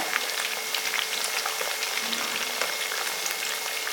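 Raw plantain slices frying in hot oil, a steady, dense sizzle with fine crackling pops that holds evenly at close range with no talking.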